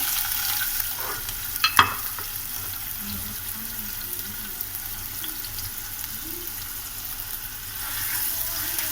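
Ginger and cumin fry in hot ghee for an egg bhurji, a continuous close sizzle with a couple of sharp clinks of a spoon against the pan early on.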